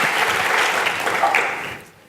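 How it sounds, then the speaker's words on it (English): A conference audience breaks into dense, loud applause welcoming a speaker on stage, steady for most of the stretch, then thinning and fading out near the end. "please put your hands together with a big round of applause for Pratik Thakar"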